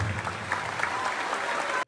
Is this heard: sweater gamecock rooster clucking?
no